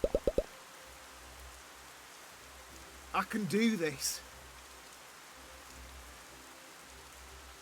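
Steady rain falls in a video game scene, a soft continuous hiss across the whole stretch, with a short burst of yelling and brief speech breaking through midway.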